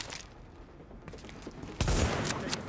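Video game gunfire from The Division, a burst of rapid shots at the start and a louder volley near the end, separated by a quieter gap, with no talking.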